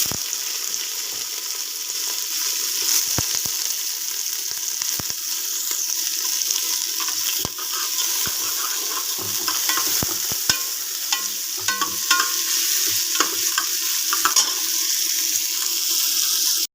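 Steady crackling sizzle of ginger and onions frying in hot oil, with occasional scraping stir clicks, continuous and close throughout.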